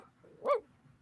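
A pet dog lets out one short, close bark or yip in a quiet room, standing alone with faint background noise around it.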